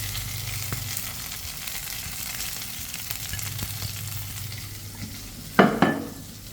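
Onion, tomato, green chili and garlic frying in a pan, a continuous close sizzle under light stirring, ending with a sharp louder scrape and clatter of the spoon near the end.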